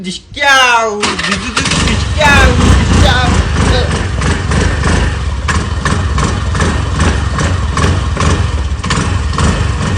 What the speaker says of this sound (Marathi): आता बघितलं का आपल्या गाडीचा असा आवाज येतो